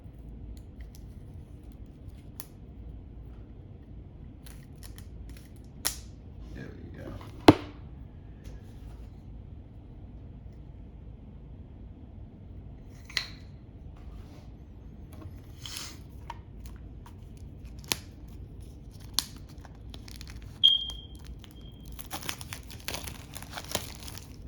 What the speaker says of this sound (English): I'm using exactly what it's for, right? To cut open something